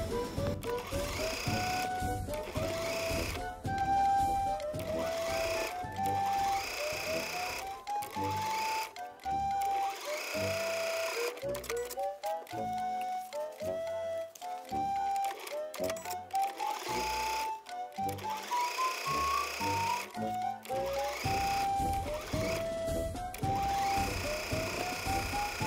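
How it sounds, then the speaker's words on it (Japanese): A sewing machine runs steadily, stitching narrow 5 mm seams along both side edges of a piece of fabric. The whirring stays loud and close, broken by brief pauses and restarts, with no talking. "5ミリ幅で両サイドをまず縫っていきます。"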